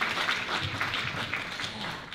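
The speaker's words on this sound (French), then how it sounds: "Vous pouvez vous applaudir." Conference audience applauding, a dense steady wash of clapping from many hands filling the room, with no speech over it.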